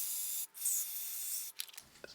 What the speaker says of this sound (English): That's the only one that has done anything with the vacuum line, with the initial spray.